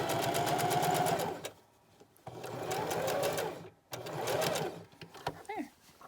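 A sewing machine runs a zigzag stitch over a pipe cleaner sewn into the top of a pocket face mask, in two bursts of steady mechanical whirring, each about 1.5 seconds, with short pauses and a brief third run.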